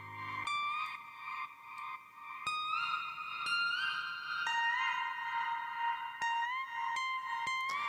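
A reverb effect is adjusted on a mix inside recording software, where a sustained tonal synth line with gliding pitches rings under heavy echo and reverberation, and sharp transient hits cut through at intervals with no voices present.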